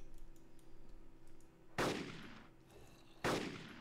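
Two sharp gunshots from the Minecraft Crafting Dead mod, spaced about a second and a half apart, each a loud crack with a short decaying tail against quiet background clicks.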